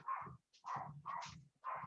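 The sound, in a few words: dogs barking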